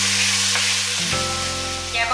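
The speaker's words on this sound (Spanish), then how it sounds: "También vamos a poner la cebolla y los 2 dientecitos de ajo. Lo vamos a dorar por unos minutos" Onion and garlic cloves brown in a hot pan, giving a loud, steady hiss of frying with a brief shift partway through and no speech.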